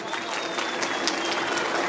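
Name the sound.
audience applause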